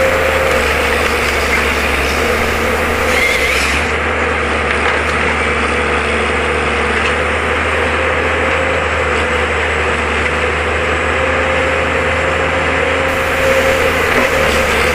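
A Valmet timber harvester's engine runs continuously during hardwood thinning for firewood in woodland, a loud, steady drone with a constant low hum and no breaks.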